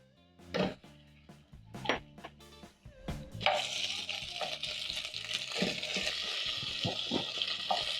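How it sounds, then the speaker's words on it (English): Beef added to a hot pan with golden-browned garlic and ginger, a few clanks and thumps of the meat going in, then a steady, fairly quiet sizzle of frying that holds to the end. "When the garlic and ginger has a very lovely golden brown color, you're going to add in your beef."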